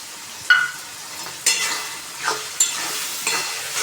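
Garlic water being stirred into pav bhaji in a pan, a few distinct scraping stirs with soft sizzling between them, close and moderately loud.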